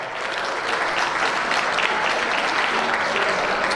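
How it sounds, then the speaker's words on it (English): Dense, steady clapping from a gala banquet audience greeting honoured guests, a full sustained wash of many hands at moderate distance that continues unbroken throughout. "Please give them a round of applause"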